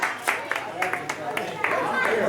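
Arena audience applauding wrestlers after an independent wrestling match, a steady wash of clapping with sharper bursts, heard under a commentator's talk.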